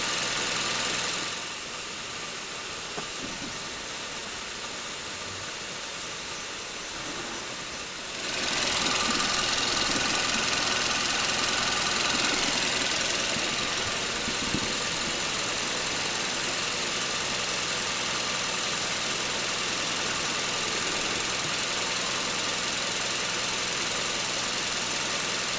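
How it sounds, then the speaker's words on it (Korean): A GDI car engine idles during a rough-idle check in a repair shop, a steady broadband hum and rattle with a louder stretch in the middle, continuous and close, no talk. "현재 이 화면은 공회전 부조 검사를 하고 있는 중입니다."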